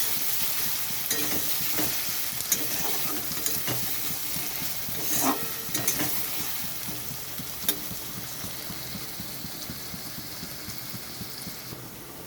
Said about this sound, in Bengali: আলুটাও সিদ্ধ হয়ে যাবে, পেঁয়াজটাও ভাজা হয়ে যাবে